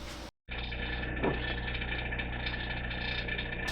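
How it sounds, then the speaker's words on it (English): A 3D printer runs in the background with a steady mechanical hum, whir and faint ratcheting of its motors. The sound is continuous and moderately loud, and it stops briefly near the start. "If you guys are wondering what all that noise in the background is, that is my 3D printer."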